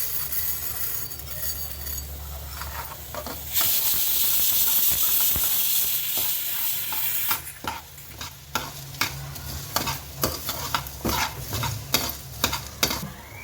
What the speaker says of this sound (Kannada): ಇವಾಗ ಉದ್ದಿನಬೇಳೆನೂ ಹಾಕೋತಾ ಇದ್ದೀನಿ. ಚಕ್ಕೆ ಮತ್ತು ಜೀರಿಗೆ ಹಾಕೀನಿ ನೋಡಿ.